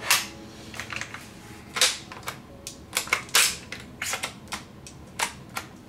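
Magazine pulled from an ARES Striker airsoft rifle with a sticky catch, giving a run of sharp plastic clicks and clacks at close range, irregular and fairly loud, with no talk over them.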